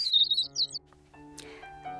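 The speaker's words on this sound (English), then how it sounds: "You are a bird" Bright bird chirps used as a sound effect in a read-aloud of a children's storybook, a quick burst of high tweets at the start followed by softer tonal notes over a musical background.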